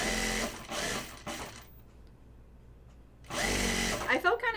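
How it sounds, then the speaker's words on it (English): Sewing machine stitching the first seam of a jelly roll race quilt runs loud and steady, stopping for about a second and a half of near silence before starting again, with a voice talking lightly over it. "this first seam takes forever."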